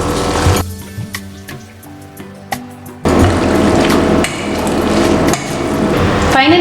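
Fried onions are stirred into a marinade for a festive non-veg meal. Sharp clinks and knocks of a utensil on the bowl come first, then a loud, continuous wet clattering of mixing, up close.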